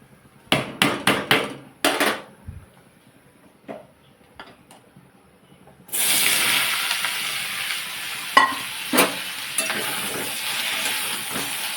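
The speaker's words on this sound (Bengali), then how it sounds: "আমার তেলটা গরম হলে ঢ্যাঁড়স আলু পেঁয়াজটা দিয়ে দেবো" Okra, potato and onion dropped into hot oil at home: a few sharp kitchen knocks and clatters come first, then a loud, continuous frying hiss takes over for the rest, with occasional utensil clinks.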